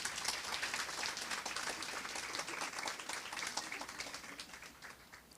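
A round of applause for a discussion panel on anti-Black racism, steady dense clapping from a seated audience, fairly faint and distant, continuing evenly throughout.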